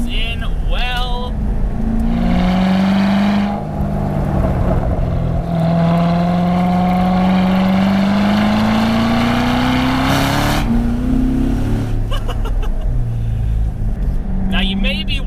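A 2018 Corvette Grand Sport's 6.2-liter LT1 naturally aspirated V8 drones loudly and close, pitch rising steadily through a long pull, then dropping off and building again.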